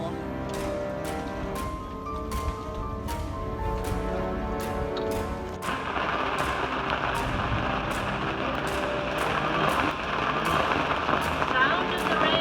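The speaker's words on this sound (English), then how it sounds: "Sound of the rain." Heavy rain pours down steadily during a storm aboard a sailboat, a loud dense hiss that thickens partway through, with sharp ticking drops repeating over the wash.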